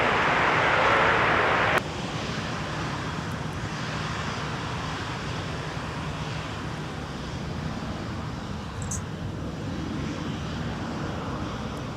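Airliner jet engines roar steadily at a distance during a takeoff on runway 30 left at Minneapolis–Saint Paul airport, a broad constant rumble with a wind-like wash that holds for the whole stretch, with no talking.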